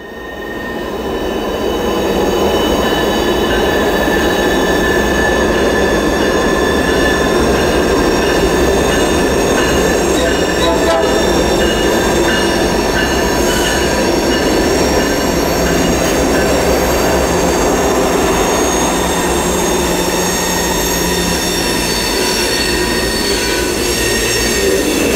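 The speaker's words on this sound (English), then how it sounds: "as NS80W, a Williamson Road job, takes a loaded train west" A loaded Norfolk Southern freight train heading west on the Buchanan Branch rolls past close by, loud and continuous, with sustained high metallic wheel squeal ringing over the rumble throughout.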